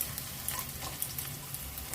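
Garlic and green chili frying in a pan for a beetroot fry, giving a faint, steady sizzle close by with small crackles and no voices.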